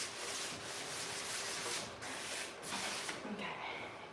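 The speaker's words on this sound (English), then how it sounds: "All I'm trying to do is give it just a little bit of scuff so that my primer doesn't have to work as hard" Light scuff-sanding of a piece of furniture ahead of primer, a steady brisk rasping rub in short back-and-forth strokes, close and fairly loud.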